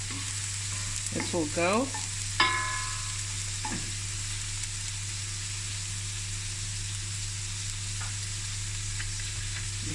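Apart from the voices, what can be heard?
garlic and ginger frying in a pot for oxtail curry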